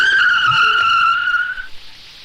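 A car skids on the road with one loud, sharp tire screech that holds steady for over a second and then quickly fades out, with no talking.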